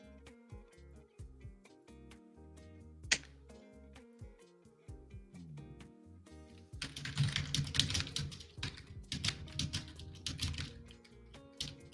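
Typing on a computer keyboard at a desk: irregular clusters of close key clicks, sparse at first, then a faster, busier burst of keystrokes near the end, with no talking.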